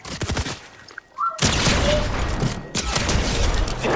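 Loud bursts of heavy cannon fire and explosive booms from a video game, dense and rumbling, with a short quiet gap before the barrage resumes.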